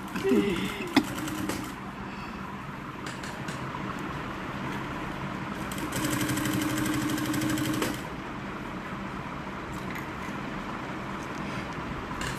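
Sewing machine stitching a client's garment at a clothier's workroom, a steady mechanical whir running throughout with a louder, more intense stretch in the middle, set against faint background voices and room noise.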